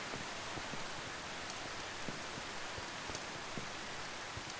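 Steady rain pours over a Minecraft world, a dense even hiss with scattered droplet ticks throughout, close and constant with no voices.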